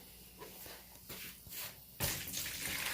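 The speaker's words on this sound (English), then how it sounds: "Dump that water in there" Water from a bucket being dumped into a tub, with soft splashes and handling noises before a louder rushing pour starts near the midpoint and continues to the end.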